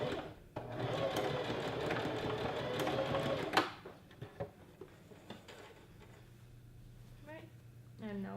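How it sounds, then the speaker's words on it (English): A sewing machine joins two inside skirt pieces, a steady close whirring run for about three seconds, then stopping; clicks and light handling follow, with faint voices near the end. "we're just gonna sew these two inside pieces"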